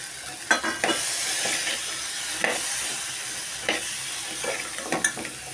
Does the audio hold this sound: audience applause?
no